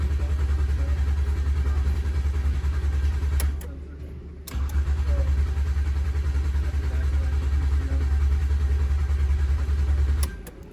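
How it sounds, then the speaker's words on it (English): A 2007 Ford 500 engine cranks with its crankshaft position sensor unplugged, so it turns over without starting: two long, loud, even starter drones separated by a brief pause. "Here's our RPM signal while cranking with the crankshaft position sensor"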